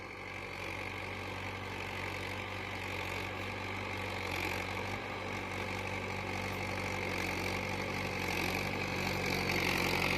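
A Mahindra 575 Bhoomiputra tractor engine runs continuously with an even, low, droning rumble that holds steady at moderate loudness with no breaks.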